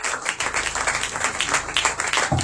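A crowd greets the arrival of the apostle Khan at a live evening church gathering with dense, loud applause that continues steadily, briefly touched by a low voice near the end.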